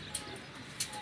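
A keeper's domestic pigeons coo faintly at their loft, low soft burbles sitting in a quiet outdoor background with a couple of brief sharp clicks, no voices clearly heard.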